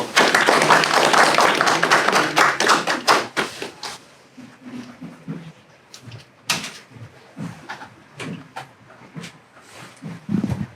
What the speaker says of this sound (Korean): 박수로 한번 모시겠습니다